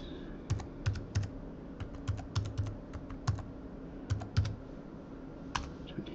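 Keys clatter on a computer keyboard in short, irregular bursts of quick clicks, close and fairly clear over a low background hum.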